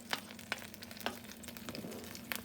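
Meat drippings sizzling in a pan as the base for a steak sauce, a quiet close frying hiss broken by several sharp spattering pops.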